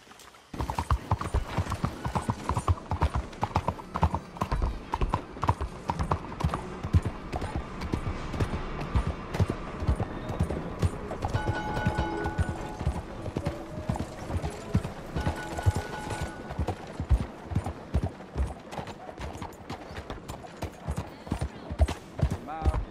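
Horse hooves in Red Dead Redemption 2, with a steady run of close clip-clops on hard ground that slows and resumes, plus a brief whinny, while voices talk intermittently over the hoofbeats.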